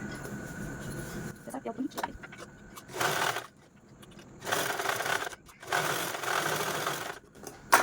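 A sewing machine stitches the seam of a zip-pocket wallet in several loud bursts of rapid whirring, separated by short pauses with handling noise.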